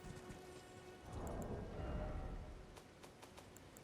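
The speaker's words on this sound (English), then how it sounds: "I guess it has been raining this whole time." Steady rain falls in the Elden Ring video game, a faint, continuous hiss with a soft low rumble swelling in the middle.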